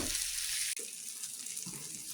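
Water splashes from a tap into a pan of sautéed cassava and papaya leaves, a loud steady hiss that cuts off sharply, then gives way to softer sizzling and stirring.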